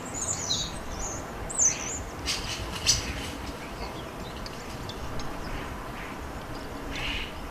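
Juvenile and adult starlings squabbling at a garden feeder make faint, scattered squeaks and harsh chirps over a steady background hiss, with a few louder calls near the start.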